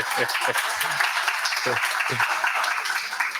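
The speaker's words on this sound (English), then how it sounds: "Please, let's have an applause" Scattered audience applause at an HIV and gender-based violence conference session, a light, steady patter of clapping with a voice talking briefly over it in short bursts.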